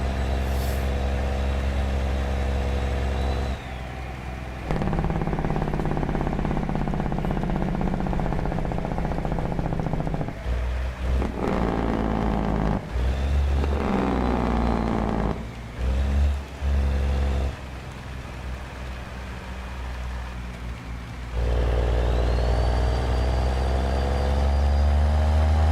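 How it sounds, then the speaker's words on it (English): A truck engine's jake brake rumbles loud and close in long stuttering bursts, cutting in and out with brief pauses across the stretch. "The jake brake on this engine just sounds so good."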